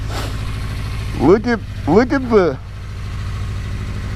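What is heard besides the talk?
toy Yamaha motorbike engine idling and revving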